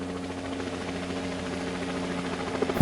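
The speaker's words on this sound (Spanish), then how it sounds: "un helicóptero sobrevolaba una densa jungla sudamericana." A helicopter drones steadily over a dense South American jungle, a low, even, moderately quiet hum with no talk.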